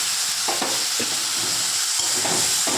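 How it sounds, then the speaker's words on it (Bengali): Spice paste fries in a pan with a little water, a steady close sizzle broken by several short scraping stirs at irregular intervals. "মশলাটা ভালোভাবে কষে নিতে হবে।"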